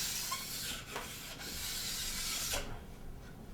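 A fine file rasps steadily along a ski's steel edge, a close continuous scraping with brief pauses between strokes.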